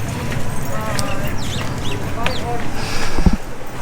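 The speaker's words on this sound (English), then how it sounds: "There are like chickens everywhere here running around" Chickens cluck and squawk in short bursts over a busy outdoor background at Kualoa Ranch, Hawaii, with a few sharp calls standing out and faint voices nearby.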